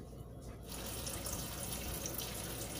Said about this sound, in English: I'm just running it in the tap, let it run for a minute or two